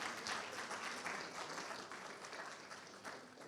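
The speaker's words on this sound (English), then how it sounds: "Engineer Ebenezer Atu Roberts. Please, let's give him a round of applause" An audience applauds an engineer introduced at a Ghana Institution of Engineering manifesto event, steady dense clapping from a crowd that stays even and fairly distant for a few seconds.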